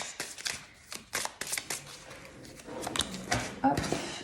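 Tarot cards drawn from a deck by hand, giving soft papery shuffles and slides with light taps, spread across a few seconds under a quiet voice.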